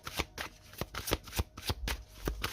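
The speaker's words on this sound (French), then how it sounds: "On va laisser sauter la carte." A deck of tarot cards is shuffled by hand at close range, giving a quick, irregular run of crisp riffling slaps with no voices.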